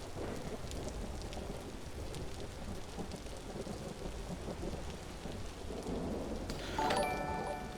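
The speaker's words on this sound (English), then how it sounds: "I'm tired of listening to the rain noise." Steady rain pours throughout in the Vintage Story video game, joined by a thunder rumble that swells near the end with a brighter crackling burst around the seventh second.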